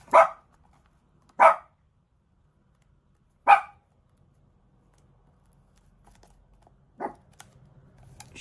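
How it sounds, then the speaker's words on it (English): Dogs bark in a house, four separate loud single woofs spaced irregularly across the stretch, with near silence between and faint rustling toward the end. "sorry about the dogs."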